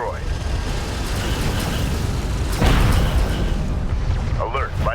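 A light attack vehicle blows up in the real-time strategy game Deserts of Kharak, a sudden deep boom about midway through, set against steady battle rumble with in-game voices talking before and after.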